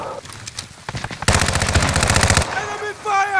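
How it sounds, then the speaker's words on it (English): Gunfire in Call of Duty: Modern Warfare: scattered shots, then a loud rapid automatic burst for about a second, followed by trailing shots while voices call out. "Enemy fire!"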